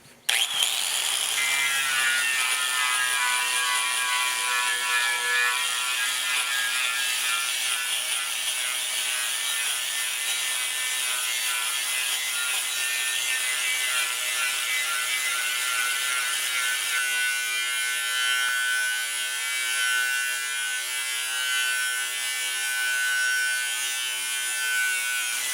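An angle grinder fitted with a strip disc stripping paint from a Yamaha RZ350 motorcycle gas tank: a continuous high-pitched whine with a grinding rasp, steady and close for the whole stretch, the tone shifting slightly as pressure changes.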